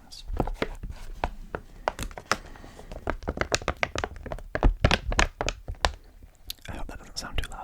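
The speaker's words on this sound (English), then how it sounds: "bag crinkling sounds." A protein powder bag is handled up close with crinkling, tapping and rustling in quick irregular bursts, while someone whispers softly through it.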